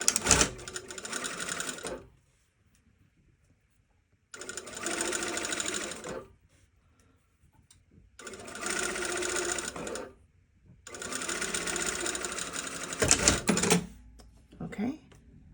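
A sewing machine stitching bias tape onto a fabric edge along a fold line, running in four steady bursts of rapid whirring stitches separated by short pauses, close and clear.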